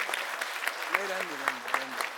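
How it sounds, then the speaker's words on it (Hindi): Applause from a crowd at an Aam Aadmi Party political rally in Greater Kailash, a distant, fairly faint spatter of clapping beneath a voice speaking over a loudspeaker. "मैं चाहूंगा एक बार सबके लिए जोरदार तालियां अपने लिए भी आप बजाइए"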